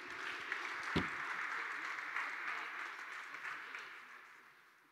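Audience applause at a tennis health conference in a hall, a sustained wash of many hands clapping, fairly faint and distant, with one sharp knock near the start.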